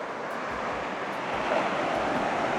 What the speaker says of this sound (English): So let's just get a bit closer to